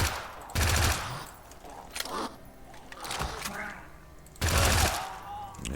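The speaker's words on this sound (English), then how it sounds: "if I try to shoot now, it's gonna damage zombies" Bursts of gunfire hit zombies in the video game The Front, with two loud volleys at the start and near the end and quieter game sounds and a voice between them.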